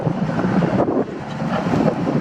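Wind buffets the microphone outdoors near water with a continuous low rushing roar that surges and dips slightly, with no voices.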